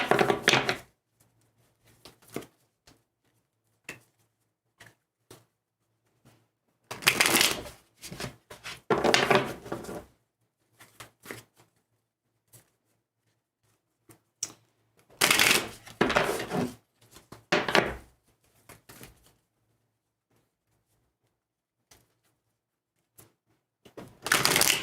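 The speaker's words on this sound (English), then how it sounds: "I'm going to shuffle these cards here, Sleepy Spirit, and we'll see what we can" Tarot cards being shuffled by hand in bursts of riffling and rustling, close and crisp, separated by long silent pauses, with a few soft taps in between.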